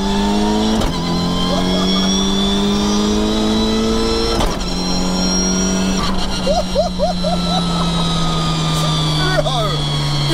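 A tuned Mitsubishi Evo 7 with an HKS stroker engine and sequential gearbox screams up through the gears, each rising whine cut by a sharp shift, loud and close, with brief voices in between.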